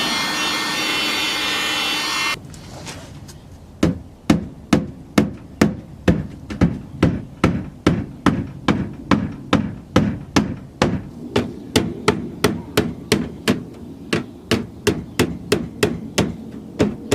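Heated plastic inside the wheel well of an IS300 is struck with a hammer in a long, steady series of sharp, loud blows at an even rhythm, following a brief hissing noise.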